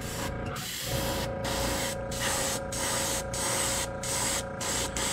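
Airbrush spraying pearl lime base coat onto a wake bait fishing lure, a steady close hiss lasting throughout with faint rhythmic pulses and no talking.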